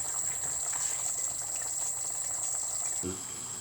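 Water boiling in a pot for pasta, a steady close rolling bubble with a continuous hiss that carries on throughout.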